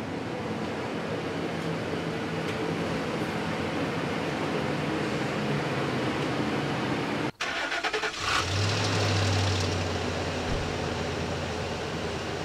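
A Ford 5.4L 3V Triton V8 truck pulls into a garage: a steady engine rumble, a sharp knock, then a lower, smoother idle hum with no talking.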